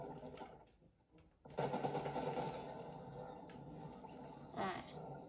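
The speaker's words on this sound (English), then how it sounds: "Who just shot at me?" Gunfire in the video game Fortnite, a burst of rapid shots starting abruptly after a quiet moment and continuing as a dense rattling stream, with a brief sharper sound near the end.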